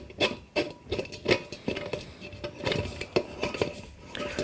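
A metal nut being tightened onto the lid of a pot still, giving small scraping, clinking and ratcheting taps of metal on metal at close range, irregular and fairly quiet.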